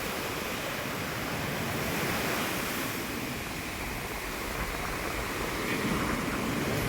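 Heavy surf roars continuously, a broad steady wash of crashing waves on a rough sea during a coastal sea surge, with wind mixed in and no voices.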